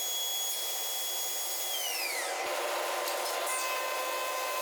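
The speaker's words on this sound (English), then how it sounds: "Planing, sawing machine." A planing and sawing machine cuts a hard piece of exotic hardwood, running as a steady loud whine whose pitch sags as the cut bites, then a brief knock and the motor continuing on.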